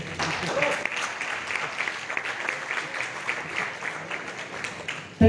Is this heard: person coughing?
no